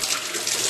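Cold tap water poured over brined cucumbers in a plastic bottle, a short, steady gush of running water, close and continuous, with no talking.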